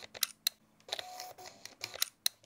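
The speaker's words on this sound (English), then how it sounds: "And that's the shutter." Several sharp, close shutter clicks from a Ricoh GR III compact camera held right next to the microphone, arriving in an irregular run of crisp snaps with quiet gaps between them.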